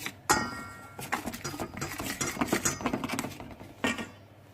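Pistachio powder mixture is stirred and sifted in a bowl: a sharp clink at the start, then a run of soft scraping, tapping and rustling, with another knock near the end; no voices.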